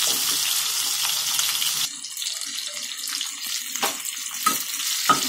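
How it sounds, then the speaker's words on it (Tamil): Whole small onions hit a hot pan for a mango fish kuzhambu, starting with a loud hissing sizzle that drops after about two seconds to a quieter fry with scattered utensil clinks. "அடுத்தது சின்ன வெங்காயம் முழுசா போட்டுருங்க, கட் பண்ணி போட வேண்டாம். கொஞ்சம் நல்லா அது வதங்கட்டும்."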